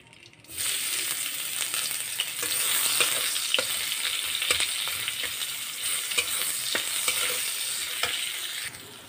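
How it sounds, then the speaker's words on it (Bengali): Onion frying in a kadai while being stirred, a steady close sizzle with repeated scrapes of the spoon against the pan; no talking. "আমি কড়াইয়ের মধ্যে এখন একটু পেঁয়াজ সম্বাস দিলাম।"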